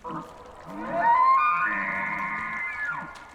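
A long, eerie elk bugle in the woods of Firewatch, a rising, wavering whistle-like cry that swells loud and then trails off, preceded by a few faint lower grunts, heard alone without talk.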